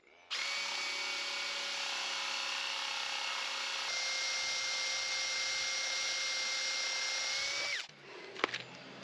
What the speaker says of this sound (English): So I've got a 10 millimeter drill bit, and that should be a nice tight fit